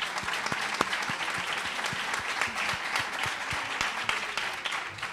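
An audience applauds during a lecture on Saint Teresa of Jesus, with continuous, even clapping that carries crisp individual claps and stays fairly constant in loudness.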